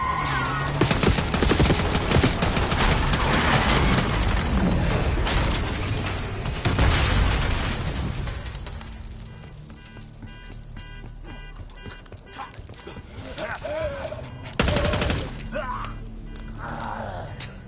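Rapid bursts of gunfire and booms in the video game Call of Duty Black Ops 6, dense and loud at first, then sparser shots under music and voices.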